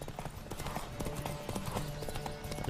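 Horse galloping in The Witcher 3, rapid rhythmic clip-clop of hooves at close range, steady and fairly loud, with faint voice underneath.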